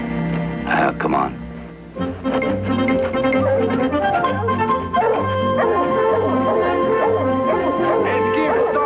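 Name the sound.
dog barking and yipping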